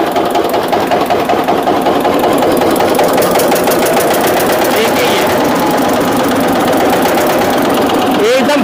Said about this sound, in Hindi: देखिए मैंने किस तरह से स्टार्ट करके दिखाया हैंडल से, यानी भारी भरकम इंजन भी हैंडल से स्टार्ट हो गया।